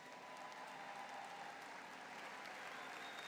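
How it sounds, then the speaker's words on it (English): Steady, faint applause from an audience honours a minister at a CARIFESTA festival event, an even wash of clapping heard from a distance throughout. "Minister, I think you deserve a very special round of applause."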